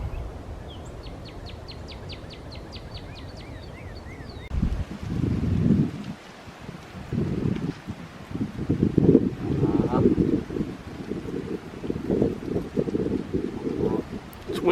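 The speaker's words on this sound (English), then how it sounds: "It's windy, isn't it?" Wind gusts across a lake in a forest on a March morning, a low rumbling roar near the microphone with a few faint bird calls early on and a voice speaking later.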